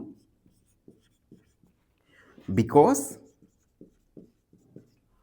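Pen writing the word 'true' as the answer during a Class 9 maths lesson on Euclid's geometry: a series of soft, short scratchy strokes and taps, with a brief burst of speech partway through.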